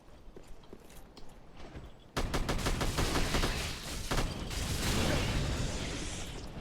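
Sniper rifle shots in a video game duel: a sudden loud burst of rapid cracking gunfire that continues densely over several seconds, following a quieter stretch of scattered clicks and movement.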